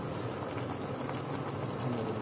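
A pot of mudfish pochero broth boiling at a steady, dense bubble, heard up close as a continuous simmering roar with no talk over it.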